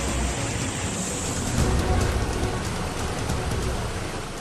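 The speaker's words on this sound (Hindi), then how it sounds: "2 दिन की बारिश के बाद हाईवे पर सैलाब बह रहा है" Floodwater rushes over a national highway after two days of heavy rain, a loud, constant broadband roar of flowing water with no break.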